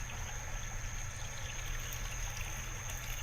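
A backyard creek and waterfall flow steadily: a broad, continuous rushing wash with a low hum beneath, heard alone without voices.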